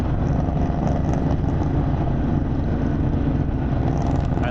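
A Harley-Davidson Pan America motorcycle with a Vance & Hines exhaust, a steady deep rumble at cruising speed with wind roar, close and constant throughout with no talk.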